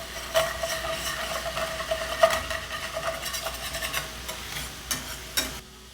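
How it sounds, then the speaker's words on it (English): A whisk scrapes the bottom of a pan while a brandy cream sauce for steak sizzles steadily, with repeated scraping strokes and a few sharper clinks over the constant frying hiss. "It's a perfect time to scrape the bottom of the pan"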